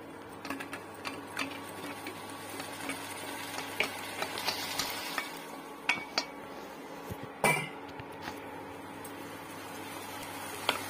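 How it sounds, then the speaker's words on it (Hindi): A utensil scrapes and clinks irregularly against a metal wok while boiled pasta is stirred, over a steady low background hum. "इसको मैं कढ़ाई में मिक्स करूंगी।"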